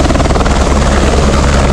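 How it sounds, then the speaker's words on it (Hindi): A helicopter thunders at the Kedarnath helipad, a loud, steady rotor chop that fills the whole clip close by, with no talk over it. "जैसे हेलीकॉप्टर उड़ता है ना, तो उसके नीचे बहुत तेज मतलब विंड ब्लास्ट होता है, ज़बरदस्त हवा आती है यार।"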